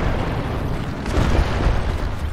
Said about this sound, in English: We just have to destroy these rocks.